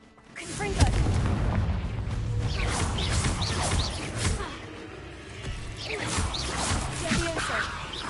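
Confringo blasting spell in the Hogwarts Legacy video game: a dense, rumbling game explosion that swells to a loud boom, followed by sustained crackling battle noise and further bursts, with a voice heard in the mix.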